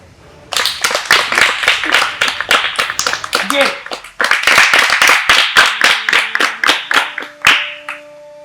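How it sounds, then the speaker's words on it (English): People clap in quick, bursty rhythmic rounds, loud and close, with a voice speaking briefly between the bursts and a sustained musical tone near the end. "Clap for me."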